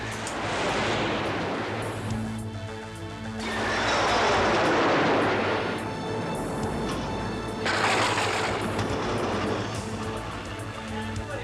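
A rocket launched at a National Guard test facility near Gainesville, Florida, to trigger artificial lightning gives a loud, sustained roaring whoosh that surges and fades in waves over a steady low hum, outdoors.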